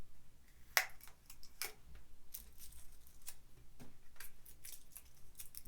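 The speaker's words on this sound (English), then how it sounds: "I'll just take the tape off" Tape peeled off an I Heart Revolution Donut eyeshadow palette: a sharp crackling rip near the start, followed by scattered small ticks, crinkles and sticky peeling sounds, close and fairly quiet, with no talking.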